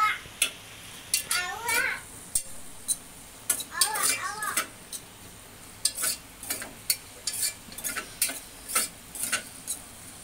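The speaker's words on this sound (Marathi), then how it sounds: "कांदा आपल्याला चांगला परतून घ्यायचा आहे, जेणेकरून त्याचा रंग सोनेरी झाला" Crushed onion sautés in oil over a medium flame, a soft sizzle broken by frequent sharp clicks and scrapes of stirring, with brief high voice-like chirps now and then in the background.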